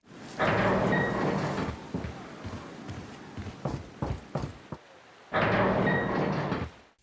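A scary metal door recreated as Foley for Resident Evil 4, two sustained grinding, resonant swings separated by a series of clunks and knocks, loud and close with no talking.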